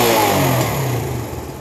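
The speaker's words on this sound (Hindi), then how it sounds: "अब हम बाइक को एक्सीलेटर दे सकते हैं" A 70cc motorbike with a newly installed oil pump revs loudly up close, the engine note sliding down as the throttle eases off, with no talking.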